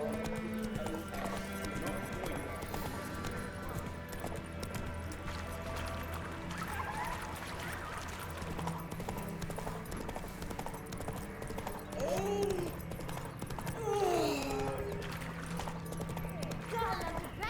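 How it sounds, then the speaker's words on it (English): Hooves clip-clop steadily as the horse Roach gallops in The Witcher 3 video game, with occasional whinnies. Game music and effects play underneath, and the whole thing stays fairly quiet. "Run, Roach."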